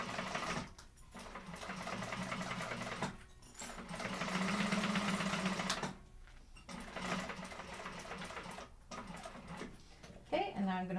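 Sewing machine basting along the bottom of a Wayfarer sling bag, running in long steady bursts with brief pauses between passes, a voice talking over parts of the stitching.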